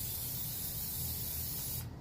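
Plasti Dip coating sprays onto a car in a continuous, close, bright hiss that holds steady and then cuts off abruptly near the end.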